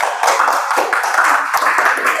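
A classroom group of students clapping for the second team, a dense steady patter of many hands at close range throughout, with a faint murmur of voices mixed in.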